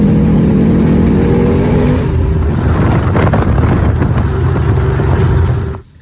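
A muscle car engine runs loud and steady as the car pulls in, with a strong low rumble and some wind buffeting, then cuts off sharply near the end.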